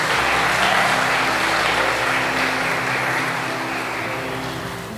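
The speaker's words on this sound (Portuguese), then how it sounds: "Você pode dar uma salva de palmas para o Senhor" A church congregation applauds together in one sustained, dense wash of clapping that holds steady at first, then slowly fades toward the end. No voices are heard.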